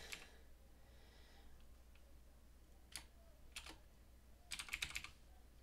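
Fingers type on a computer keyboard in short, quiet bursts of key clicks, with a single tap, a pause, and then a quick flurry of strokes near the end, no voices.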